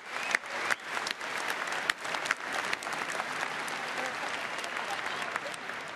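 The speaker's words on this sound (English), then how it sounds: "I'd like you all to give yourselves a huge round of applause." A large audience at the BlizzCon 2010 opening ceremony in Anaheim claps in a sustained, dense ovation, with scattered cheers rising over continuous applause.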